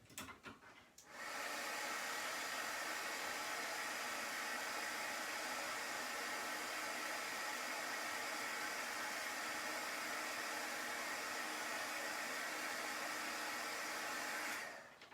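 A hair dryer blows over chalk paste on a holiday three-tiered tray and gives a loud, steady, close whoosh. It runs without a break for about fourteen seconds, with no talk, then cuts off.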